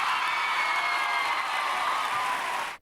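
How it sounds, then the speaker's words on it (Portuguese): Church audience applauding, a steady, dense wash of clapping from a crowd that holds for a few seconds and then cuts off abruptly. "Então vamos receber a surpresa aplaudindo o Senhor Jesus."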